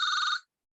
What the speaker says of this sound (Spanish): Hay un celular ahí o algo que está sonando.